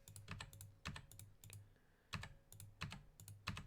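Keys on a computer keyboard are pressed in quick repeated bursts, clustered clicks with short pauses between groups, close and quiet, no voices present.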